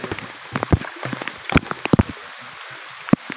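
Rain falls in the countryside, scattered drops and patters landing on nearby surfaces in irregular bursts, faint to moderate and close by.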